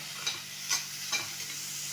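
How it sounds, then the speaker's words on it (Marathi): Cashews being lightly roasted in a pan while making paneer butter masala, giving a soft steady sizzle with three brief stirring scrapes, close and fairly quiet. "आता हे आपल्याला जास्त भाजून घ्यायचं नाही फक्त थोडंसं याला भाजून घ्यायचं"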